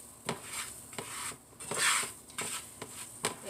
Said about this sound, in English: I have about a tablespoon of butter and a tablespoon of flour here. And I'm just going to make another roux.